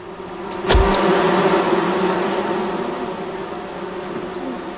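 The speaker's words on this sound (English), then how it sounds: "The bees only chase so long and then they magically despawn" Bees buzz and chase in the woodland video game Among Trees, a steady dense droning hum that stays loud and close throughout after a short thump near the start, with no talking.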